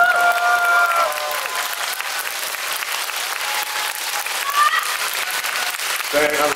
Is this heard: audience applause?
yes